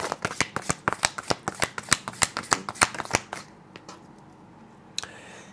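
Tarot cards are shuffled in quick sharp riffling slaps, about twenty snappy strokes close to the mic. They stop, a softer rustle follows as cards are drawn, then one final crisp flick is heard alone.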